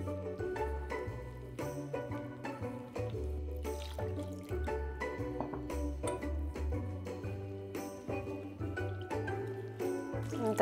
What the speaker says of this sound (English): Now very carefully, I'm just going to pour in a bit of water,